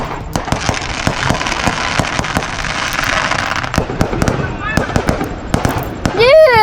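Fireworks burst and crackle at an outdoor family day on a field, sharp repeated bangs and pops in irregular succession, with a whistling rocket rising near the end and people talking underneath.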